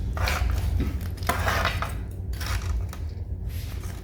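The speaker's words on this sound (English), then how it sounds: "So we're gonna try and slice off this breast" A knife slices through a smoked turkey breast, making close, wet, scraping cuts with soft crunchy bursts over a low rumble.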